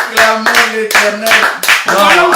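Church congregation in Brussels clapping together, steady rhythmic applause close by with sung or shouted voices running through it, in bursts across the whole moment.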